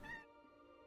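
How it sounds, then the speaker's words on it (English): A house cat named Jax gives a single short meow, faint and close, with a low hum beneath. "I'm not gonna be able to edit out all your meowing"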